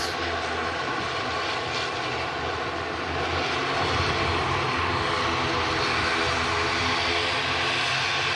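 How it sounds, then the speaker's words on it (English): An Aer Lingus Regional ATR 72 turboprop operated by Emerald Airlines at Manchester Airport, arriving from Dublin, a steady broadband engine roar held at constant loudness throughout with no talk. "This airplane will be coming in from Dublin, Aer Lingus Regional, Emerald Airlines, they're known as."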